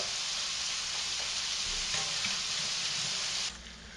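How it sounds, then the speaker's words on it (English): Sausage and chorizo sizzle steadily in a hot pan over medium to medium-high heat, a dense, close frying hiss that holds loud and even before dropping slightly at the end. "this has been sauteing for about 5 minutes now on a medium to a medium-high heat"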